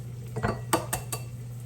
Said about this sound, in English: I'm going to go ahead and get my eggs cracked for my scrambled eggs